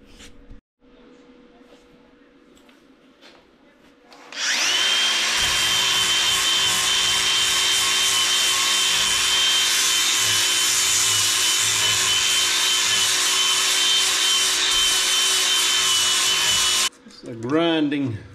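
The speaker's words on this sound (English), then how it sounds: "I'm gonna start sanding then and we'll go from there." A power sander starts up after a quiet stretch and grinds steadily against an old wooden window frame, about 75 years old, for about twelve seconds, loud and close, then winds down.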